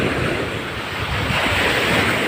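Sea waves wash steadily onto the shore with constant surf roar and heavy wind buffeting the microphone, loud and close throughout with no voices.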